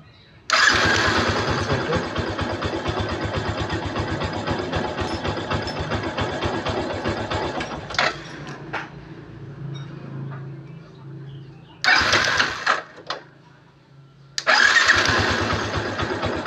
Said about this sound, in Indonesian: kunci starter.